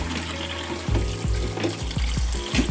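Hot water runs from a kitchen tap into a container for a caught fish, a steady splashing rush with repeated gurgling surges.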